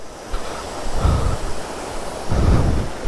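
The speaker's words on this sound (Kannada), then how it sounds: "ಎಲ್ಲ ಫಾಲ್ಸ್ ನೀರು ನೋಡಪ್ಪ ಹರಿಸ್ಕೊಂಡು ಹೋಗ್ತಾಯಿದೆ" Water rushes at Sri Bheemeshwara falls, a continuous broad roar close by with a couple of surging swells, heard alone without voices.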